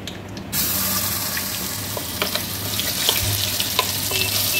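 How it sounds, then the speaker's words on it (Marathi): Onion masala fries in hot oil in a home kitchen pan, a loud continuous sizzle with scattered crackles and a few sharp pops, running steadily on its own without talk. "एकीकडे आपला मसाला फ्राय होतोय"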